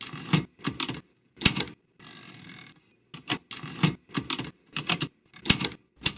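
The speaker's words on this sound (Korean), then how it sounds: "나는 타자기를 두드리고 있었다" Typewriter keys are struck in quick bursts of sharp clacks, separated by short pauses and one longer mechanical whir, all close and clear with no one talking.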